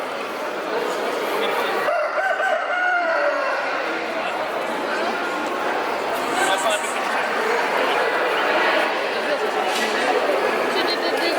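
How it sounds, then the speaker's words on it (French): Small backyard flock of hens clucking and chattering steadily with a rooster crowing among them, close and continuous, with people talking nearby over the birds. "C'est nos petites poules ça"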